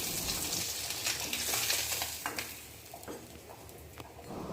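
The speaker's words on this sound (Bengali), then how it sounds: "বেশ কিছুক্ষণ ধরে লো টু মিডিয়াম ফ্লেমে উল্টে পাল্টে মাছগুলোকে লাল করে ভেজে নিয়েছি।" Snakehead fish pieces fry in oil over a low to medium flame and are turned over, a continuous close sizzle punctuated by a few clicking knocks as they are moved in the pan.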